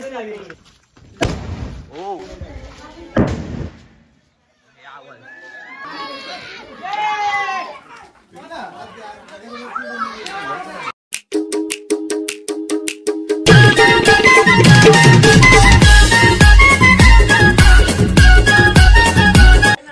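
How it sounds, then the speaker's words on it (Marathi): Children and adults chatter before dawn on Diwali, then a rapid string of crackling pops gives way to a long, loud, dense barrage of bursting firecrackers. "आम्ही आता फटाके वाजवतो"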